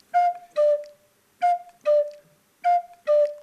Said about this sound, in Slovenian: Tem sta tile dve piščalki.